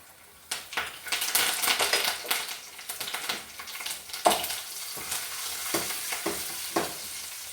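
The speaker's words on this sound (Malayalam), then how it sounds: "ഇതിലേക്ക് നമുക്ക് കുറച്ച് എണ്ണ ചേർക്കാം അതിനായിട്ട് ഉള്ളി മൂപ്പിച്ചെടുത്തിട്ടുണ്ട് ഇതിലേക്ക് കുറച്ച് കറിവേപ്പില കൂടി" Curry leaves and onions fry in hot oil for a Kerala-style ivy gourd curry, crackling and spattering in loud irregular bursts while a spoon scrapes and stirs the pan, close and with no voice.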